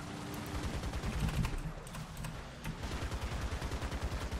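A machine gun on a Cobra King heavy tank fires in War Thunder, loud rapid bursts that settle into a steady, evenly spaced rattle over a low engine rumble.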